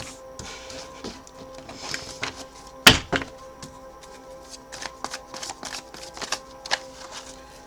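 Tarot cards are shuffled by hand, giving a dry run of papery riffles and soft taps with one sharp slap partway through, close up and alone with no talking.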